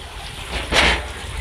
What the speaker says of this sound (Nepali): यहाँ पानी कुद्दैछ